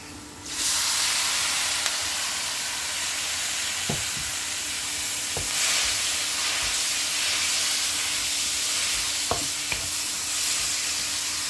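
Cleaned mussels going into a hot pan of spice masala for a Kerala-style kallummakaya roast, giving a steady loud sizzle with a few sharp clinks of stirring against the pan.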